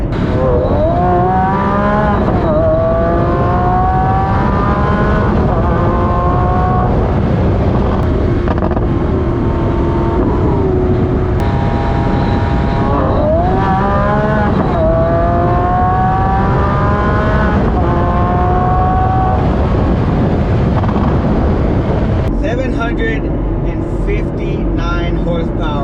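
A 759-horsepower Lamborghini SVJ supercar accelerates hard through repeated rising engine pulls with gear changes, loud from inside the cabin with wind noise, and a voice speaks at times over it.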